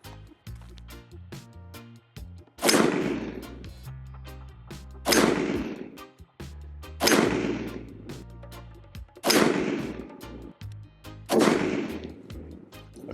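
An AR-15 rifle fires 5.56 AAC 77-grain ammunition: five loud, sharp shots spaced about two to three seconds apart, each with a bright crack and a ringing tail, and no talking.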